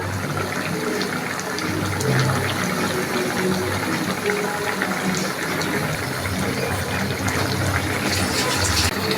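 Tomato chutney with melted ghee boils in a pot, giving a continuous close bubbling and watery hiss that stays steady throughout with no talking.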